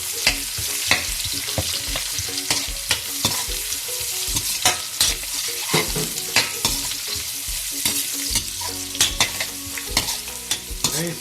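Garlic frying in a pan as onions go in, a continuous sizzle broken by repeated scraping and stirring clatters, close and fairly loud, with no talking.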